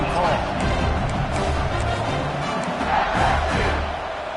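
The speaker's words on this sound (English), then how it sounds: "This crowd trying to do its part to get inside the kicker's head." A packed football stadium crowd in Florida vs LSU roars loud and unbroken ahead of a fourth-down field goal try, a dense wall of cheering and yelling.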